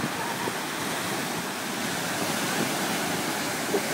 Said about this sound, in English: There comes a wave.